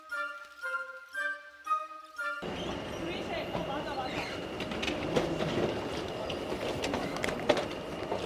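An intercity train bound for Brussels rumbles along its rails after boarding at a station during a rail strike, a steady rolling clatter with rhythmic clicks. People talk at the start before the rumble takes over.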